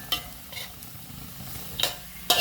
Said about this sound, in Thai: เราผัดไปสักแป๊บนะครับ